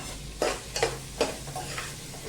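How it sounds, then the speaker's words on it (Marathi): Vegetables are stirred in a frying pan for Maharashtrian masale bhaat. A soft sizzle runs underneath while four or five distinct spoon strokes scrape through at intervals, close and fairly quiet, with nobody speaking. "या भाज्या थोड्या हलवून घेऊया"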